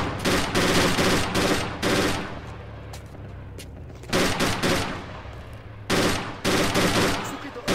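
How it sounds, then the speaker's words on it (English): Bursts of automatic gunfire and fusillades in a desert combat video game, loud repeated volleys separated by brief lulls, with a voice faintly present in the mix. "Mission, gunfire on the roof."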